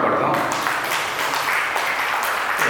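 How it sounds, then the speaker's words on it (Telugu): A congregation at a church prayer meeting applauds, a steady wash of clapping that runs throughout with speech audible over it. "చప్పట్లు కొడదాం"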